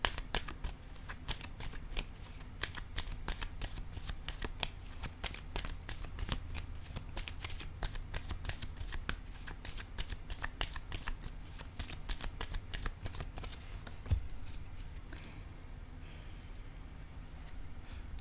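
Tarot cards shuffled in a steady rapid run of crisp riffling flicks for most of the stretch, close and fairly quiet, then a single card laid down with a soft tap before the sound thins out.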